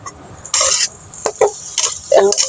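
Boiled greens (saag) fried in a pan, heard as short bursts of hissing sizzle each time the spatula turns them, with scraping strokes in between, close and fairly loud.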